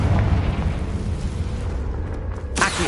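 A Confringo blasting spell in Hogwarts Legacy erupts as a dense, rumbling explosion that roars continuously for a few seconds, ending with a brief sharp crackle.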